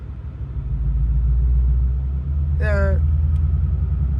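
Modified Lexus IS F with its exhaust switched to mode B, a deep, steady low rumble from the engine close by, with a brief voice breaking in near the middle.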